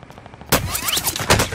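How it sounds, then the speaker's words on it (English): Bursts of gunfire in Call of Duty Warzone on Rebirth Island, several sharp close shots and rapid rattling volleys fired in quick succession. "They're trying to shoot me."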